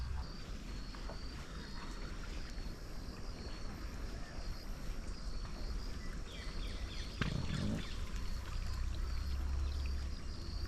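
Irrigation water flows steadily into a farm field as a continuous low gushing, with a brief splash partway through.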